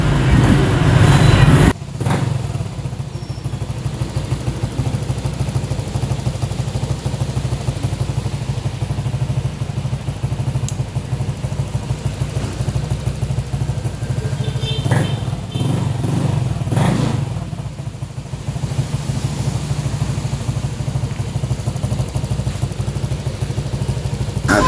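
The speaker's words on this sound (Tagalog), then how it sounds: "Testing na natin kung andar na ba ng maayos ang motor na to mga padi." Honda Click scooter engine after wiring repairs, starting with a sharp burst and then idling with a steady low rumble, close by, with a few clunks and rattles partway through.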